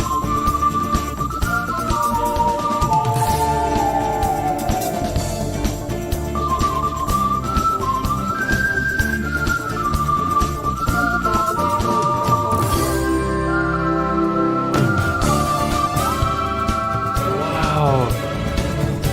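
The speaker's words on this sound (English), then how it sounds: "It's almost like these like bright organ sounds, the synth sounds you're hearing as well." Bright organ and synth lines weave a wavering lead melody over dense sustained chords and rhythmic backing, full and continuous, with a voice talking over the music.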